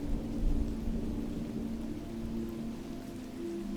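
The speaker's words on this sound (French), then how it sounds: "Le ciel s'assombrit brusquement et quelques gouttes de pluie s'échouent sur votre" Rain falling as a storm builds, a steady soft hiss with a low rumbling underneath, heard alone at moderate loudness and holding even throughout.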